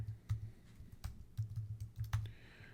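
Quick, irregular keystrokes on a computer keyboard as a short folder name is typed, close and crisp with brief pauses between bursts.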